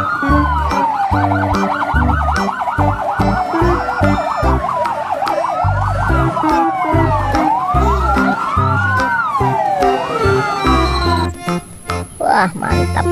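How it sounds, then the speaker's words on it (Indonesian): A fire truck siren wails loud and close in rising and falling sweeps, overlapped by a second siren tone, with a steady horn-like pulse beneath; the wailing continues for the whole stretch, then breaks off into a brief jumble near the end. "Wah, ternyata mobil damkar."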